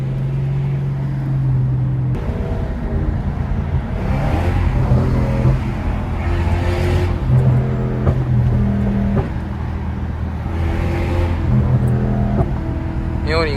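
Lexus GS430 V8 with no catalytic converters, its raw exhaust droning loudly and steadily with a few rising revs, heard from inside the car while people talk over the engine.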